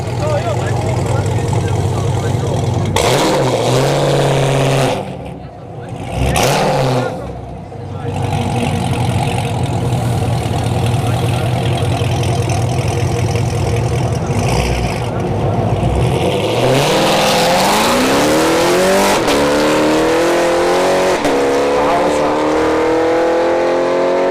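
A loud cammed Chevrolet Camaro SS engine at a drag strip revs hard and climbs through gears, with a rough, lopey idle between pulls and a brief dip before roaring up again.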